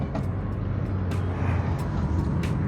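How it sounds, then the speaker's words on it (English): Vauxhall Astra engine running with a rumbling, droning tone during rev matching, a constant near engine noise with a few brief sharp clicks or knocks on top, no talking. "Let's do some rev matching"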